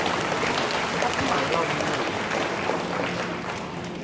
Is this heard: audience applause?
yes